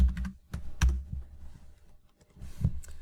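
Keys on a computer keyboard are tapped in a few short, scattered clicks, with quiet pauses between them, fairly close and alone.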